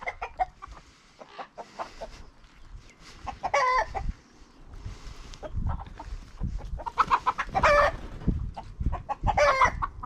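Farm chickens cluck and squawk close by in a busy flock, with a rooster's crow ringing out a few times over the scattered clucking.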